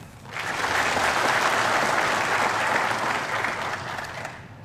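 A large gathering applauds retirees' families at an Assam Rifles honour ceremony. Thick, continuous applause swells within the first half second, holds steady and loud, then begins to thin toward the close.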